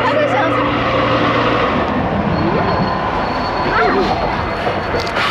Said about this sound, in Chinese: 运输甘蔗的小火车一般称为狗火拉车